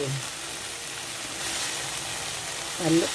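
Eggplant with egg and ketchup stir-frying in a pan, a constant soft sizzle and crackle, fairly faint, with a brief voice at the very end.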